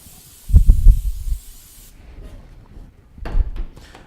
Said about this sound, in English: I'm going to spray it because this is what we're actually going to put the sweet potatoes in to bake it off